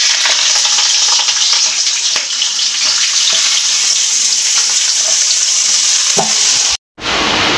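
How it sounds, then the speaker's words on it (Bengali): Potatoes fry in hot mustard oil in a kadai, giving a loud, steady sizzle with occasional stirring scrapes, then a brief cut near the end. "তো বেশি আলুটাকে দিয়ে দিচ্ছি ভাজার জন্যে।"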